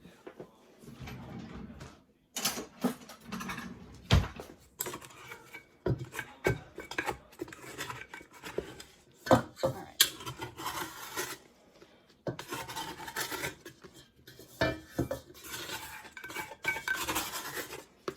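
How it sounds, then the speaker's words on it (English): Leftover bagel dough and yeast are scraped from a mixing bowl in rough, rasping strokes, close and fairly loud, in irregular bursts with short pauses and no talking. "That's right, ladies and gents, scrape that bowl."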